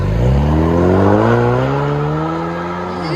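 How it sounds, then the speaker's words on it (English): A 2019 Ford Mustang EcoBoost four-cylinder turbo with rear muffler delete and 5-inch carbon fiber tips, loud and close, revving hard with rising tones that drop back as it eases off. "Ford Mustang 4-cylinder turbo. Rear muffler delete, 5-inch carbon fiber tips."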